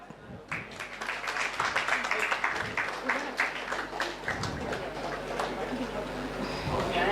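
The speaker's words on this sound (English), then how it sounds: "please clap." Clapping from attendees at an academic mathematics workshop day, sharp hand claps of moderate density under a steady low hum, with voices talking over parts of it.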